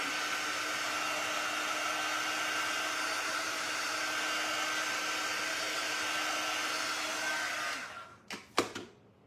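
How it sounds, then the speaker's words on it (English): A heat gun blows hot air to dry stamp ink on a postage-stamp craft project, a steady close whirring roar for about eight seconds that then cuts off, followed by a few handling clicks. "I'm gonna hit it with my heat gun real quick"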